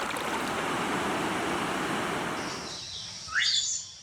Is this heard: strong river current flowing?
yes